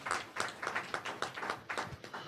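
An audience claps for Pastor Gloria, Dr. Gloria White Hammond, at a gathering. The claps are faint and distant, coming as a steady run of separate hand claps at a quick, even pace with no voices over them.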